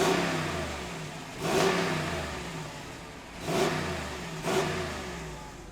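A 2022 Jeep Grand Wagoneer engine revved in sport mode, three short rising roars over a low idle, heard from inside the vehicle at moderate level.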